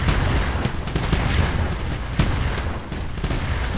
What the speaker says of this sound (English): Pointless shooting of thingamabobbies!